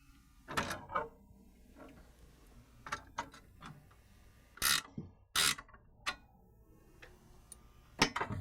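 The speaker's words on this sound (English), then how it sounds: "With the supplied hardware, we're going to go ahead and bolt it down." Ratchet wrench clicking in short bursts as a cold air intake bracket is bolted down on a 2016-18 Ford Focus RS 2.3L EcoBoost, with close metallic ticks and brief pauses between strokes.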